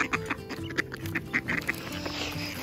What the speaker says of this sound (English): Those two ducks have been chasing each other for 1 week.